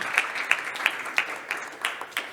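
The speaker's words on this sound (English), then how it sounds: "Round of applause, Jack Francis." Audience at a health tech startup pitch event claps in a brief burst of applause, with the strongest claps early on before fading out unevenly.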